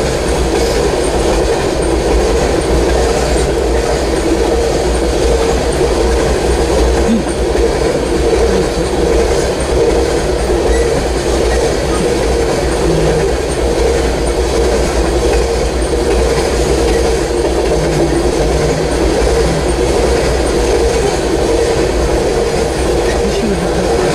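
A Norfolk Southern freight train rolls past at close range in Hudson, Ohio, a loud steady rumble of railcars with clattering wheels and faint squeals sustained throughout.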